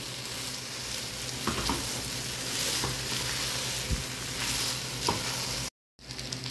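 Steady loud sizzling of rice and chickpeas frying together in a pan for kabuli chana pulao, with occasional scraping clicks of stirring.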